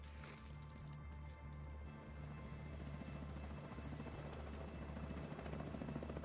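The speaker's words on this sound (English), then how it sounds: "Enemy helicopter approaching." Enemy helicopter approaching in The Division 2, a heavy low rotor thrum that gradually grows louder and closer, with faint game sounds layered above.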